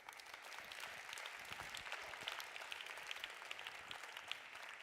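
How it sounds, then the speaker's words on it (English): An audience at a grand opening ceremony claps in a steady, even round of applause, heard at a distance and quite faint, with no voices over it. "A huge round of applause"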